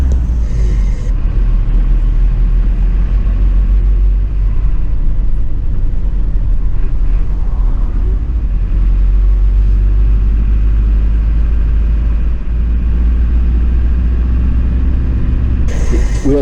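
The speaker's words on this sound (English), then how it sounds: "We are driving through the main roads of Swakopmund now to Mercedes" A Mercedes truck drives through the main streets of Swakopmund, Namibia, its loud, steady low engine rumble filling the cab continuously with little change in pace.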